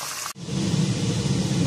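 Lamb meat, about 800 grams, fries in a pot for Uzbek plov, giving a steady, close hissing sizzle that begins after a brief break at the start.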